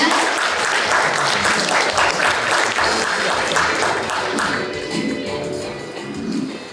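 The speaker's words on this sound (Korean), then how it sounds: "여러분 뜨거운 박수로 환영해 주시기 바랍니다" An audience at a commemorative ceremony applauds to welcome a speaker, a dense, loud wash of clapping that thins and fades toward the end.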